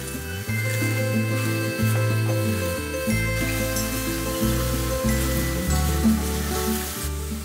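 Eggplant and mushrooms sautéing in a hot pan, a steady close sizzle with clinks and scrapes of stirring throughout.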